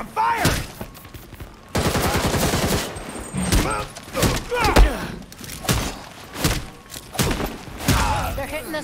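Gunfire from the video game Gotham Knights, with repeated bursts of shots and heavy thuds in the middle of a battle, heard alongside urgent in-game character voices shouting over the action.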